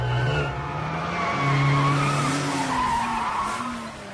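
Race cars skid in a contest of five cars, with a loud, continuous squeal of tires that rises and wavers throughout over a steady engine roar.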